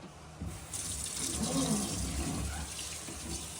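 Running water rinses freshly cleaned catfish in a steady, close hiss that starts abruptly and continues with light splashing against the fish.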